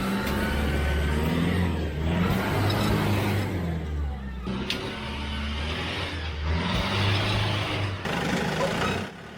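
A Toyota 4WD crawls over a rocky technical track and its engine growls in uneven surges with loud low rumbling. Wind buffets the microphone and there is some scraping. No speech is heard.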